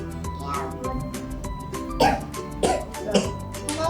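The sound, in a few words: child coughing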